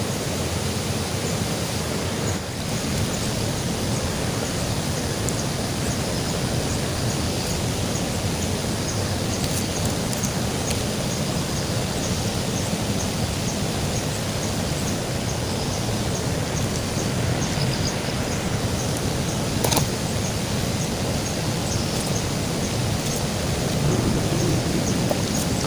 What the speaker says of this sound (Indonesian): ini kita siram dulu ya sahabat ya